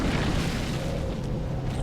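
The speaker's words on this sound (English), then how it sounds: "with earth-shaking steps, the unstoppable, if somewhat sluggish evil began its trek towards the front" Heavy earth-shaking footsteps of the evil overlord in the video game Dungeons 2, a dense continuous low rumble and booming under a loud fantasy game soundscape, with no individual steps standing out.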